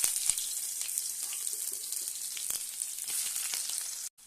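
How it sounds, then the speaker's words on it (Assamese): Onions fry in hot mustard oil in a kadai, hissing in a steady, close sizzle that cuts off abruptly near the end. "তেলটো হিট হ'বলৈ ষ্টাৰ্ট কৰিছে। এতিয়া ইয়াতে মই পিঁয়াজখিনি দি দিম।"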